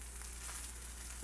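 A ribeye steak sizzles in a hot cast iron pan while being flipped, a dense, steady crackling hiss with small pops, close and continuous with no talking.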